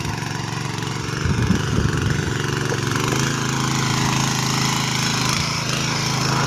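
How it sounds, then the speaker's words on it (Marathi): A bed-making machine working a farm field to form raised soil beds, a loud continuous engine drone with a low throbbing hum and brief rattling near the start, close and without voices. "हे बघा, हे बेड मशीन कसे बेड पाडते।"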